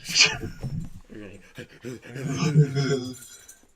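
Dogs panting close by with quick, rhythmic breaths, mixed with whimpery sounds and people talking over them.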